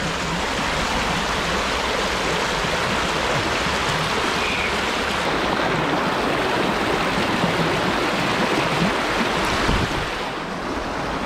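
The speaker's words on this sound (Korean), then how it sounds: "오랜만에 물소리 들으니까 좀 느낌이 색다르지 않습니까?" Flowing water rushes continuously and evenly, a close, full hiss and wash that holds steady throughout with no voices over it.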